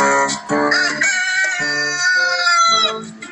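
A rooster perched high in a tree crows loudly at sunrise, one long drawn-out call made of several rising and falling segments that carry on for about three seconds.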